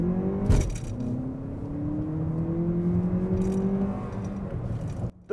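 A three-row hybrid SUV drives and accelerates, its engine note climbing steadily in pitch as it pulls. The hum stays loud and continuous inside the cabin, and no one speaks.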